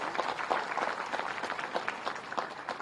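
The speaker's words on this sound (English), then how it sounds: "Huge round of applause for him." Applause from a conference audience at the opening ceremony of a disaster management summit, a steady patter of many hands clapping at moderate distance, fairly faint, with no talk over it.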